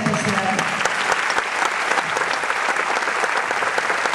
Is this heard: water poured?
no